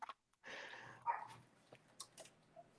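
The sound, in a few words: dog barking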